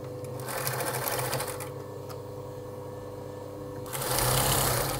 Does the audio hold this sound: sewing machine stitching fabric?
yes